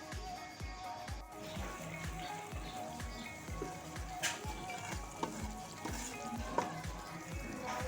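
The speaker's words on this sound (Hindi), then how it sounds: "तो चलें 20 मिनट बाद इसको भून लेते हैं" Pressure-cooked mutton being sautéed in a pan, with a steady soft sizzle and a regular rhythm of stirring scrapes, close but quiet, no talking.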